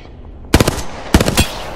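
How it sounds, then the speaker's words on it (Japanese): Two loud, close bursts of rapid automatic gunfire in the video game Apex Legends, separated by a short pause. "撃ってるぞ"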